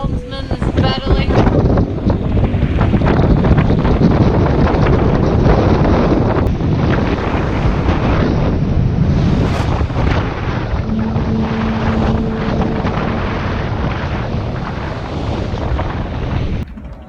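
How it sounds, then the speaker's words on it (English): Strong wind buffets the microphone on a sailboat off the French coast in bad weather, with waves and spray crashing around the hull in a constant loud roar that fills the whole stretch. "We're sailing outside the French coast and we hit some bad weather."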